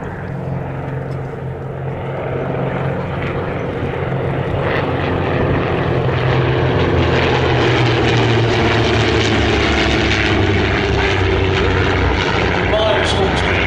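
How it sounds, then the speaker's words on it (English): A de Havilland Comet racing aircraft powered by two 230 horsepower Gipsy Six engines drones overhead at an evening airshow, a loud, sustained propeller-engine roar that swells slightly as it passes, with faint crowd voices beneath. "the Comet's powered by two 230 horsepower Gypsy 6 engines"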